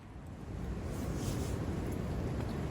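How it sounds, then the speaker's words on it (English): A strong wind gust sweeps across a lake during a stormy night with high winds and heavy rain, a steady, loud roaring rush of air that builds slightly and holds for several seconds. "Just had a real big gust come through"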